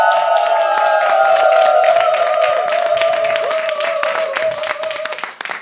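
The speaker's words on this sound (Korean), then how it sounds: "박수로 맞이해 주세요" Audience clapping welcomes a singer onto the stage at a singing class show, a dense patter under a sustained tonal musical sound, loud and steady before tapering off at the end.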